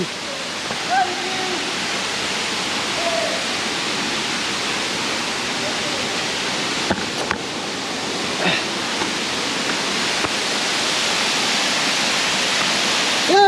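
Nohkali-kai Waterfalls in Meghalaya roars in a steady, loud rush of water that continues without a break.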